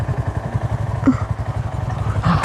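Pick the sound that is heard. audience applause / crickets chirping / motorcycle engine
motorcycle engine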